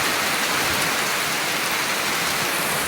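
Heavy rain falls outside a house gate as a loud, even, continuous hiss of drops, heard close up with no voices over it.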